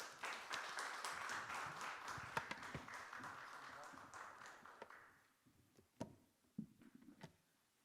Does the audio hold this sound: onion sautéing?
no